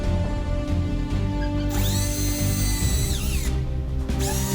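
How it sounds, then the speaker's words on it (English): A power drill with a 3mm bit whines loudly and continuously, its pitch rising and dropping as it bores holes in a metal bracket. "mark the drilling positions and drill them with 3mm drill bit"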